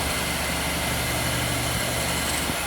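A table saw with freshly rebuilt bearings runs in a steady, quiet, continuous hum with a low rumble, close by and uninterrupted, with no talking.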